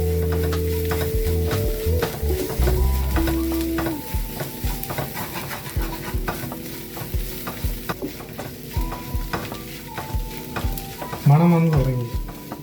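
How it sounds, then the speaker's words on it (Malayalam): Chicken curry masala with green chillies sizzles in a pan while a spoon stirs it nonstop. The scraping strokes come as rapid, rhythmic knocks, and a brief tonal sound runs under the frying early on. "ഇങ്ങനെ നന്നായി കളക്കി കൊടുത്തോണ്ടിരിക്കുക, നിർത്താതെ."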